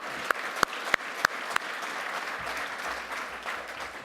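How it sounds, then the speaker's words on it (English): Audience applause at a symposium session: a few sharp, separate claps at the start, then a steady, fairly quiet wash of clapping that carries on without any talk. "Let's give them a clap."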